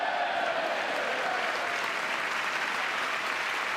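Members of Congress applauding during a presidential address, a dense, steady wash of clapping from a large chamber that holds at an even level throughout.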